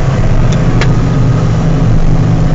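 A combine harvester's auger unloads grain from the tank into a trailer, heard as a loud, constant low engine drone and mechanical rumble with no breaks and no talking.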